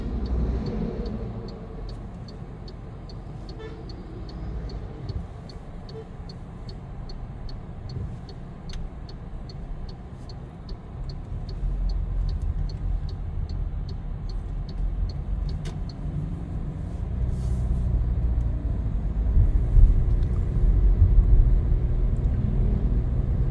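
Road traffic rolls past in Sibulan, Negros Oriental: a continuous low rumble of cars and other vehicles that swells louder in the second half, with a faint regular ticking throughout.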